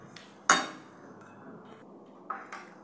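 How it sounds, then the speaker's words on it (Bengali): Fruit for falooda, pomegranate seeds, raisins, grapes and apple, stirred in a bowl with a spoon, giving a sharp clink near the start and a couple of softer clinks later over quiet room tone. "এগুলো নেড়ে মিক্স করে নিব।"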